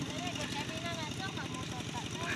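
A tractor works a flooded rice paddy, its engine thudding in a fast, steady rhythm at a moderate distance, with faint background noise and no clear speech.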